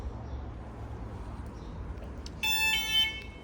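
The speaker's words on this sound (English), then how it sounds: "Sorry about that noise, just the door opening at the front." Door-open warning alarm in a Burstner Ixeo motorhome, a sudden bright electronic tonal beeping that starts near the end over a low steady background hum.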